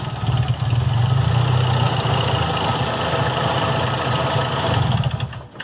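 A 2004 Ford Ranger with the 2.3 L engine, its throttle body not yet cleaned, cranks and settles into a loud, steady idle with a low rumbling drone that holds close and constant.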